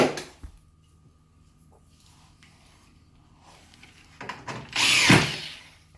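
A power tool drives a nut back onto an LG heat pump dryer, with faint handling knocks early on, then a loud, close burst of motor whirring near the end that fades out.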